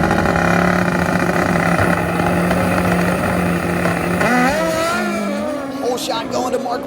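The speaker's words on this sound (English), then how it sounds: "Here comes that turbo bike, top end" A turbocharged drag-racing motorcycle roaring at top end down the strip, a loud continuous engine howl with rising pitch, under a race announcer's commentary.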